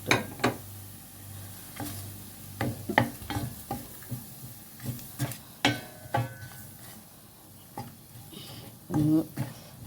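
Chili, coriander and turmeric powders fry in a pan for a Kerala-style fish curry, with soft sizzling under repeated scraping and stirring knocks of a spoon against the pan, while someone talks over the cooking.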